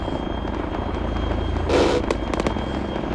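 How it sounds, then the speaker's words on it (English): Helicopters firing on a city in the military shooter Arma 3: a steady rotor and engine drone with a louder burst of fire, then several short sharp cracks of gunfire close together. "Now you can hear the choppers firing back at the city."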